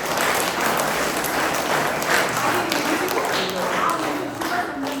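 An audience claps to congratulate a couple on their anniversary and the birth of their baby boy, a dense steady patter of many hands lasting throughout, with faint voices underneath.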